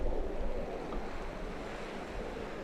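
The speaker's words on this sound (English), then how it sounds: "look at those waves, scary" Ocean waves breaking on a beach between Khanom and Sichon: a continuous loud roar of surf with rushing wash and wind buffeting the microphone, steady throughout without talking.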